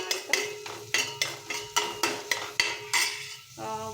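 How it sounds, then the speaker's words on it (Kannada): Onions for a bitter gourd gojju being stirred in a metal pan, with about eight steady, rhythmic clinks of the spoon against the pan up close and only faint frying beneath; no one speaks. "ಈರುಳ್ಳಿ ಹಾಕ್ಕೊಂಡಿದ್ದೀನಿ, ಚೆನ್ನಾಗಿ ಫ್ರೈ ಮಾಡೋಣ ಆಯಿತಾ."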